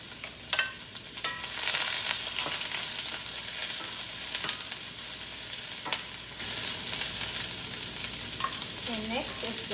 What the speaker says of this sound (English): So we need to start the onion. So start the onion first.